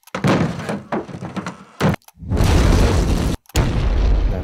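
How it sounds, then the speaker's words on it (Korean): Explosion effects from a sound library play back to back: a series of heavy booms and thunks, then a longer roaring blast with a rumbling tail, loud and close with short silent gaps between. "네, 폭발음들도 있습니다."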